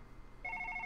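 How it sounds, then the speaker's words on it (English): A telephone rings in the horror video game One Late Night, a steady electronic trill that starts partway through the clip and repeats in quick, even pulses over a quiet ambient background. "Stupid phone's ringing again."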